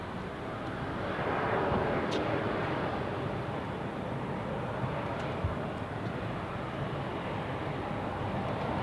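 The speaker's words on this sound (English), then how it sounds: "we now turn on final and see this gigantic aircraft landing right" A large aircraft landing at Zurich Airport, heard as a broad, steady jet roar that swells slightly and holds at an even, fairly distant level throughout.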